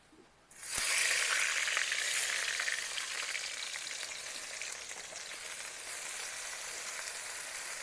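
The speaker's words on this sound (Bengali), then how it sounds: "প্রথমেই ঝিঙ্গে ভাজার জন্য কড়াইতে দিয়ে দেবো সরিষার তেল" Mustard oil bursting into a loud sizzle in a wok, the hiss starting abruptly after a short quiet moment and then settling into a steady, close crackle.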